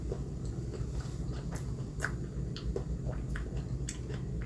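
Close, quiet bites and soft chewing of homemade cake with an oddly textured cream, a few moist crunches over faint room noise.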